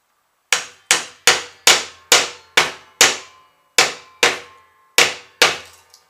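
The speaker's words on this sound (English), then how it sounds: "hammer that down." Eleven loud, ringing hammer blows on a nail in a wooden beehive frame, struck at a steady, slightly uneven pace with short pauses between strikes.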